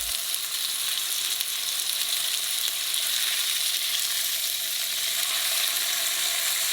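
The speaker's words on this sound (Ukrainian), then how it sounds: "Філе смажимо на середньому вогні 3 хвилини." Steady, even sizzling of chicken breast fillet frying over medium heat in a pan, continuous and close, with no voices.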